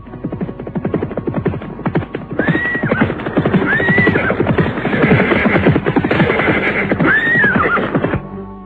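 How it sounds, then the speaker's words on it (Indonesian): Two riders on horseback approach, their hooves clip-clopping in a steady rhythm while the horses whinny loudly several times, close and clear with no talking. "mendadak dua orang penunggang kuda datang menghampirinya"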